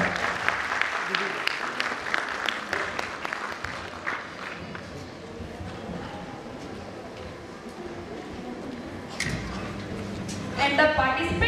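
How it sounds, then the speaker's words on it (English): Audience applause at a children's school annual function, a dense patter of clapping filling the hall, thinning toward the end with a brief burst of cheering and chatter. "Please clap for them."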